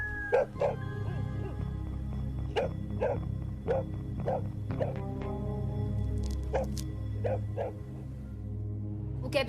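A dog barks in sharp repeated yips and whimpers over a steady low hum, the barks spaced irregularly through the scene with a faint voice underneath.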